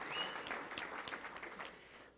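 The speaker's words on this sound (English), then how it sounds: "Let's give a round of applause for our volunteers." Audience applause for volunteers at a touchdown club luncheon, a steady wash of clapping that holds for about two seconds and then thins out, with no talk over it.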